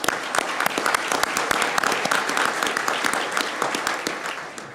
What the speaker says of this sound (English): Please help me welcome all of our guests with a round of applause.